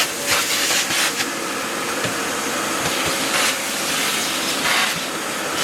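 A vacuum cleaner hoovers the cockpit of a tired yacht under restoration, giving a steady broadband hiss and whoosh with brief surges as the nozzle moves, close and continuous with no talking.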